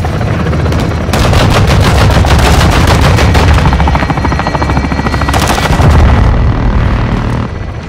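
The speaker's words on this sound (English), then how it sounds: "Taking belt-fed fire from beneath the tower." Sustained belt-fed machine gun fire rattles loud and continuous in the Call of Duty Modern Warfare 2 battle, with rapid bursts over a rumbling background and a short pause midway.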